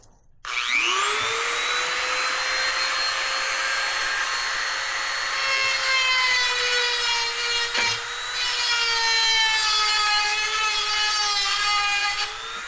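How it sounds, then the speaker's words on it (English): A grinder works down a mushroomed metal part on a broken, beat-up snowblower, a steady high whining grind with shifting harmonic tones that runs almost unbroken for about twelve seconds, loud and close, with no talk. "So I need to grind it down."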